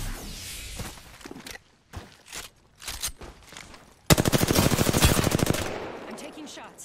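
Video game gunfire comes in short scattered bursts, then a long loud rapid volley of automatic shots fires close and steady near the end.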